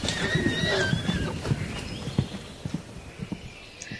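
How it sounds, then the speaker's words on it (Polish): Mongolian wild horse whinnying in high, wavering calls near the start, followed by a scattering of hoof clip-clops at moderate distance, fairly loud against a steady outdoor background. "Ten pierwotnie dziki koń może dzięki temu ponownie zamieszkać w swojej ojczyźnie"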